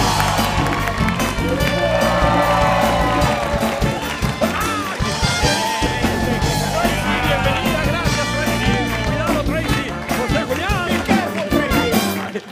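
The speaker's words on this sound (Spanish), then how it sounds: "Recibamos con un fuerte aplauso a José Julián y Tracy Pérez." A studio audience at the Spanish-language late-night talk show Noches con Platanito applauds and cheers as guests walk on. The sustained clapping and crowd noise mixes with upbeat music and scattered shouting voices.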